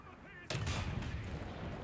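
A tank cannon fires once in a tank video game, a sudden loud blast with a rumbling tail over quiet background game noise.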